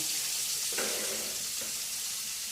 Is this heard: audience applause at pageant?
no